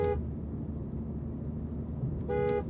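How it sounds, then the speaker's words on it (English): A sports car's horn gives two short honks, one at the start and another near the end, with a quiet stretch of low engine and road rumble in between. "That is a very traditional, respectable horn sound."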